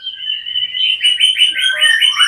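A white-rumped shama, just out of molt and short on nutrition, sings close and loud: a run of bright, rapidly repeated warbling phrases and chirps with no talk over it.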